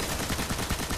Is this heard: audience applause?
no